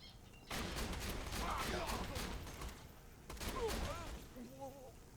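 Shotgun fire in the video game Borderlands 2, with bursts of gunfire and thuds amid game effects and a brief chirping sound, fairly quiet overall.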